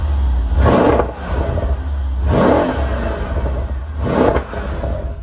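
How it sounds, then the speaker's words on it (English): A 2013 Mercedes-Benz AMG SL 63 V8 revs three times in loud, close bursts, each a deep rising roar over a steady rumbling idle, with no voices. "nothing better than that 8-cylinder AMG rumble"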